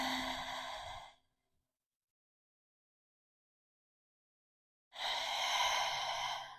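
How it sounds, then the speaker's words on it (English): Deep breaths taken during a yoga practice: a long, audible exhale like a sigh fades out, followed by silence, then another strong breath begins, close and clear with no talking. "And breathe deep."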